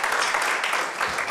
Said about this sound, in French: Je crois que vous pouvez applaudir Jean-Pierre qui le mérite.